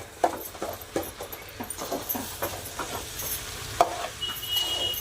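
Potato curry frying on a large griddle, a soft sizzle under repeated scraping and stirring taps from a spatula, close by, with faint background noise.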